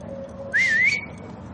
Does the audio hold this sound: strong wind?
no